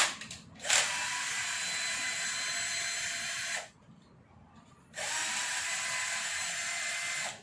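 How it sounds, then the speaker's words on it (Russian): An ordinary cordless screwdriver unscrews bolts from a KamAZ 4308 engine during teardown, whining loudly in two long, steady bursts with a short pause between them, close up and with no talk. "Ну, шуруповерт обычный. Ну и сейчас им по кругу будем открутить."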